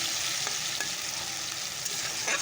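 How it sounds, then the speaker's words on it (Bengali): Onion, garlic and tomato fry with dried chilli, cinnamon and cumin in a pan, a continuous close sizzle with soft scraping from stirring throughout. "পেঁয়াজ রসুন টমেটো দিয়ে দিয়েছি তো চলো এটাকে একটু ভেজে নেই"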